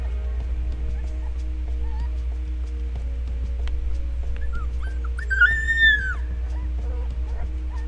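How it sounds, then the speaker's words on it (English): A lost coyote pup separated from its litter in a stump hole gives faint whimpers and a short rising, wavering howl midway, heard at a distance over a steady low hum and soft background noise. "she whimpers and howls while searching for a way out"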